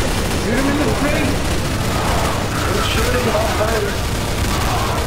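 Gunfire from Counter-Strike: Source on a Zombie Escape map rattles continuously as dense overlapping automatic fire, loud and constant throughout, with voices talking underneath.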